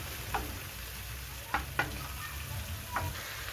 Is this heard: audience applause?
no